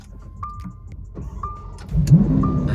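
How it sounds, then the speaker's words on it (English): A Lamborghini Aventador S is started from inside the cabin. Three soft electronic chimes sound at even intervals, then the starter whirs and the engine catches with a rising, throaty roar near the end. "So to start Aventador, you pop this little lever up here, but like a fighter pilot."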